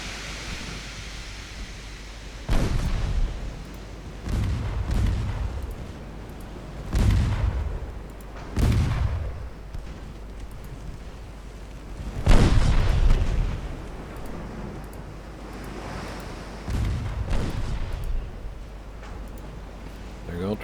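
Naval battle in Ultimate Admiral Dreadnoughts, with torpedoes launched and striking enemy ships: about six deep, loud booms at uneven intervals over steady low game rumble.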